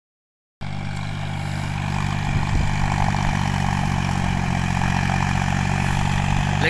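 A John Deere 5050D 4WD tractor engine runs steadily at close range, a loud continuous low diesel drone with constant harmonic hum, starting abruptly and holding even throughout in an open paddy field setting.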